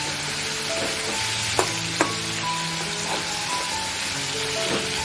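Prawns fry in a turmeric and butter glaze with a dense, loud, continuous sizzle, marked by a couple of light taps of a utensil, close up and without any talk.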